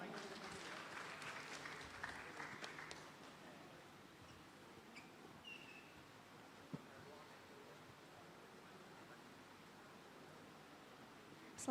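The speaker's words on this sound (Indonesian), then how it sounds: "kita berikan tepuk tangan untuk kakak" An audience at a public talk claps for a woman in the back, a fairly faint ripple of applause for the first few seconds that fades into quiet room noise.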